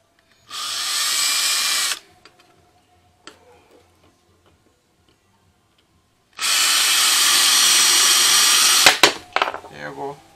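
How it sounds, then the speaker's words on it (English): A power drill bores a hole through a butter knife being made into a spoon fishing lure, whining in two loud bursts separated by a pause with faint clicks and handling noises. "Bore it right here one more time. To hold the hook in place."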